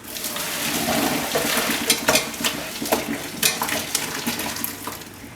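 Water and cooked pasta shells, not fully soft, pour and splash out of a metal pot, with scattered clinks and a steady wet rush, close up.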